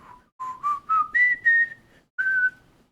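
A whistled melody from a K-pop song: six short rising notes followed by one held tone, clear and close, with no voices.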